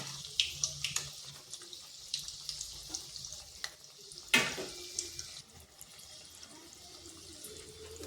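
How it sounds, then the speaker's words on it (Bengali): Carrot sweets frying at high to medium heat in a pan while being stirred and turned: steady hissing sizzle with scattered light clinks and scrapes of a utensil, moderately close, no talking. "এইভাবে নেড়ে চেড়ে হাই টু মিডিয়াম আছে ভেজে নিতে হবে।"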